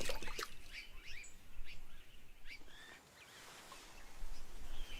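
Water birds, kingfishers among them, call from a clean wetland in the Margalla Hills near Islamabad: scattered sharp chirps and short whistles, several voices overlapping, over a steady low background wash.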